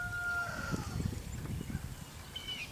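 Agitated guinea fowl call out on a farm with horses, giving a few harsh, raspy squawks and chatter over low rumbling handling noise, fairly close and moderately loud.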